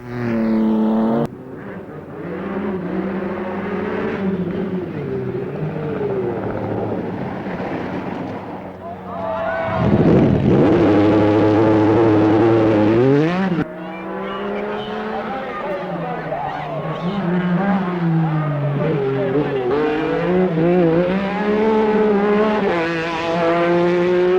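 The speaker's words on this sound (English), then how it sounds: "Alén gives the Lancia Stratos its RAC swamp song." A Lancia Stratos rally car engine howls through an RAC Rally stage, loud and close, with sustained revving that rises and falls through gear changes and a sharp surge midway, while a voice talks over it.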